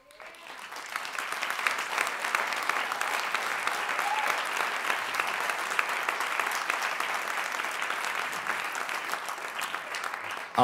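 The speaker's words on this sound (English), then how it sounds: "All the white boys clapping that song." A live audience claps after a song at a stage show, dense sustained applause swelling in quickly and holding steady for about ten seconds with no voices over it.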